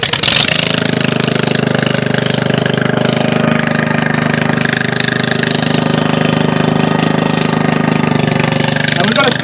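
An engine kicks into life and settles into a loud, steady drone with a pulsing knock, running close by without letup, driving a generator under 1,000 watts load.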